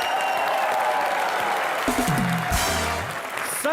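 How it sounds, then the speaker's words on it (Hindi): Studio audience on a comedy talk show claps loudly and steadily for actor Boman Irani, a dense continuous wash of applause with crowd noise and a brief sustained tone partway through. "एक बार और बोमर ईरानी साहब के लिए जोरदार तालियां।"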